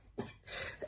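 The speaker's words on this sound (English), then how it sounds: "Excuse the cough." A single short, quiet cough from a woman with COVID close by, one brief burst followed by a faint breathy trailing sound.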